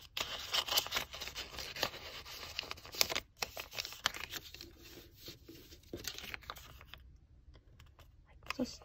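Paper rustles and rubs close up as a sheet is folded and its top layer tucked inside to form a simple square origami envelope, with soft creasing taps and brushing that fade near the end.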